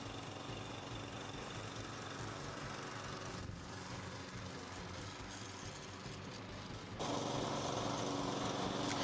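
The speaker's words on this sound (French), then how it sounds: "Je peux commencer à tondre la pelouse." A Grin HM46a mulching lawn mower engine drones steadily nearby, growing louder and harsher toward the end as it cuts through grass.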